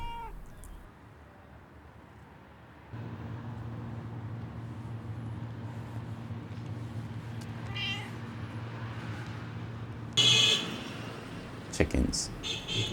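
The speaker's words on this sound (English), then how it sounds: "Look, another cat came by," A stray cat circling someone's feet on a night street in a small coastal Chinese town gives a few close, plaintive meows near the end, over a low background hum of traffic, with a voice talking earlier.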